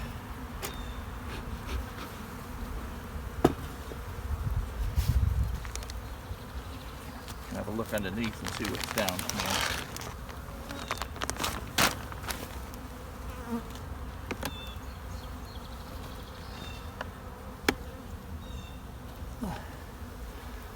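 Honey bees in an opened beehive during an early-season brood chamber check, a dense continuous buzz close by with occasional sharp knocks of frames and box, while a person talks over it at times.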